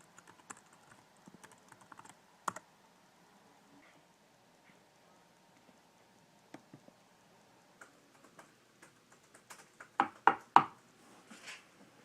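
Someone typing on a computer keyboard, with soft, scattered clicks and taps at a low level and a few sharper, louder key strikes near the end.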